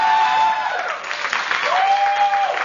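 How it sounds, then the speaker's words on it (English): Studio audience applause during a live television tech show, a burst of clapping and light cheering that holds steady for a few seconds while a tone sounds over it. "Let's get some applause for Dan."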